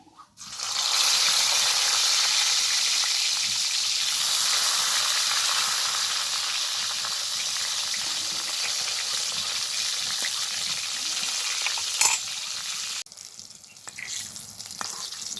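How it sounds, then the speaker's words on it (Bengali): Brinjal frying in mustard oil in a kadai, with a loud, continuous close sizzle and crackle that holds steady before thinning out. A sharp clatter comes near the end. "বেগুনটা ভেজে নেব"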